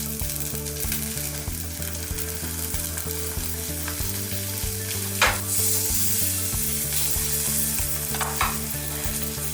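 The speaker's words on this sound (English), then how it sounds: "And also some cornstarch with the saba, and then we can sear the skin first." Mackerel (saba) fillet dusted with cornstarch sears skin-down in a hot frying pan, a loud continuous sizzle with crackling spits and brief stirring or shifting noises, no voices.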